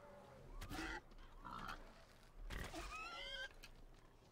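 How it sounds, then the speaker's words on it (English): Pig grunting in the video game Far Cry Primal, a run of rough oinks and snorts in a few close bursts with squealing calls, heard alone without talk. "no, there's a pig. There's pig,"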